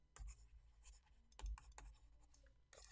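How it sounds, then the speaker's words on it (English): A pen scratches quiet notes by hand on paper, with short irregular strokes and light taps, faint and close, with no voices. "let me just write that down"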